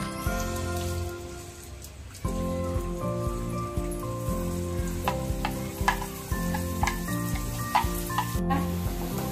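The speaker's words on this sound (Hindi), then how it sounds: "हम प्याज डाल देंगे।" Onions fry in a pan with egg masala spices, giving a continuous crackling sizzle that grows louder after a fresh addition, with intermittent stirring scrapes close by.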